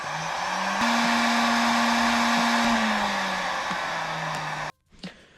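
A heat gun blows hot air onto heat-shrink tubing over a crimped cable connector while wiring a water pump in a DIY Sprinter van. A loud, steady whirring hum runs for almost five seconds, then cuts off abruptly, leaving quiet.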